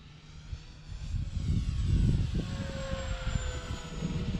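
Cirrus SR22T single-engine turbocharged propeller airplane accelerating on its takeoff roll, a loud steady engine roar with rising propeller drone and rumble, heard from inside the cabin with no talking.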